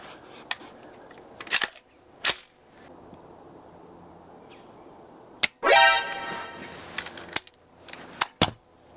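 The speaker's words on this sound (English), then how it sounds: "Fire a couple downrange here." An AR rifle fires downrange outdoors, sharp cracks spaced irregularly, several single loud reports with quiet gaps between, one followed by a brief ringing burst, no voices.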